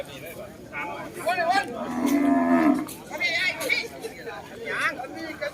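Buffalo lowing at a busy Thai cattle market, a few long loud moos rising over the hubbub, with someone talking and a crowd chattering close by.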